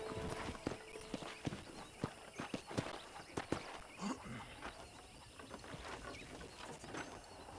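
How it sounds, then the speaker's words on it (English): Horse hooves clip-clopping at a steady walk in the video game Red Dead Redemption, a regular rhythm of light hoof strikes, fairly quiet and close, over soft ambient outdoor background. "Okay, let's see if you can still ride a horse."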